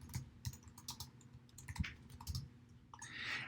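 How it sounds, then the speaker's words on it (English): Quick, close keystrokes on a computer keyboard while entering a heading into an Excel spreadsheet cell, forming a short irregular burst of light clicks in a quiet room. "I'm going to type in balance sheet."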